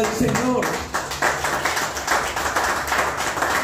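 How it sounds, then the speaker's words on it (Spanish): A church congregation at a Sunday service claps along in a steady rhythm, the loud repeated hand claps mixed with voices and room noise throughout. "Aplauden al Señor."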